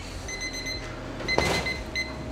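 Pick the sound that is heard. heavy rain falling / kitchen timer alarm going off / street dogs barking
kitchen timer alarm going off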